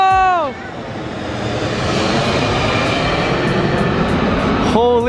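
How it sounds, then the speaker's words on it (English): A low-flying airplane passes overhead as a loud, broad roaring rush that swells and holds for several seconds, with outdoor wind noise on the microphone and brief voices at the start and end. "Airplane, get the airplane."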